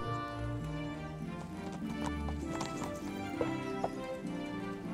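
Steady clip-clop of horse hooves in Kingdom Come: Deliverance over layered game music, with a couple of sharp clicks near the end; no talking.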